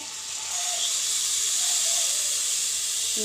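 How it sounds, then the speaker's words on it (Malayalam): Coconut milk hits a hot pan and hisses loudly, a steady sizzling steam that swells after the first half second and holds. "തേങ്ങാപ്പാൽ നല്ലതായിട്ട് അരിച്ചെടുത്തിട്ടുണ്ട് നമുക്ക് ഇതൊന്ന് ഒഴിച്ചു കൊടുക്കാവേ"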